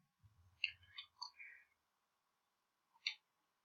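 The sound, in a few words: computer keyboard typing clicks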